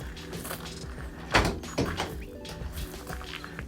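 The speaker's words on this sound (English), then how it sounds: "As we open up the back doors here," The rear doors of a 2025 Fiat Scudo L1 van swing open with a couple of clunks and rattling latch knocks over a steady hum of background noise.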